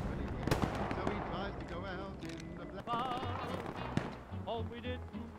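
Gunfire in the World War II shooter game Hell Let Loose, a scatter of sharp shots and cracks among busy game sounds and radio chatter, with people talking over it.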